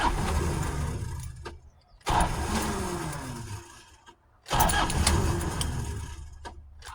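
A car engine cranks quietly after a new fuel filter housing was fitted, a low steady churning in two long bursts separated by short pauses, with no clear catch or start.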